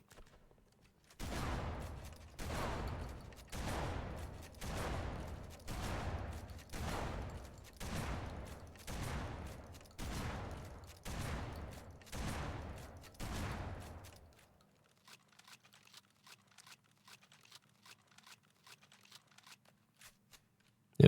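A shotgun fires in a modded Halo Reach game, mixing Halo Reach and Halo Combat Evolved Anniversary sounds: about a dozen loud blasts at a steady one-per-second pace, then quieter scattered clicks and a low hum.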